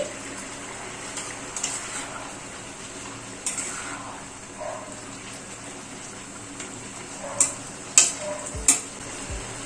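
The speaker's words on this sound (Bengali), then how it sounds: "এই কলমি শাকের বড়াগুলো অ্যাড করে দিচ্ছি" Kalmi greens fritters go into a simmering vegetable curry with a soft, continuous bubbling and faint sizzle, punctuated near the end by a few light stirring clinks.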